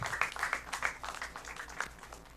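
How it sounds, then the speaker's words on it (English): Scattered clapping from an audience at an oratory competition, fairly soft and thin, continuing steadily for a couple of seconds. "A round of applause for her again."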